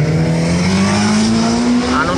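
A motorbike passes close by on a road, its loud engine drone holding steady while the pitch climbs gradually over a couple of seconds.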